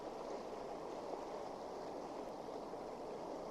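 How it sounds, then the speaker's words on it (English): River water flows in a soft, continuous rushing wash as a bedtime-story sound effect, quiet and steady throughout with no voices. "so the water started slowing and the river started widening"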